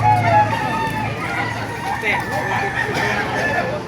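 Chickens, hens and roosters, cluck and crow at a busy poultry market in Baliuag, Bulacan, under constant talking and crowd babble that dominates the scene.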